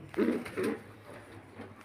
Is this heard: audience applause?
no